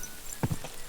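Horse hooves clip-clop in the video game Kingdom Come Deliverance II, a short burst of a few close, moderately loud hoofbeats with no talking.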